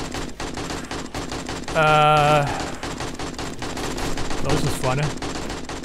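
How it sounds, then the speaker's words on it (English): Automatic AK rifle fire in the survival video game 7 Days to Die, a dense rattling burst of shots under ongoing game noise, with someone talking over it and a brief harmonic tone in the middle. "Get the AK out."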